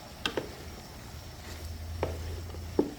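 Chow mein stirred in a hot pan: a steady sizzle with a few sharp scrapes and taps of the utensil spread across the moment, fairly close.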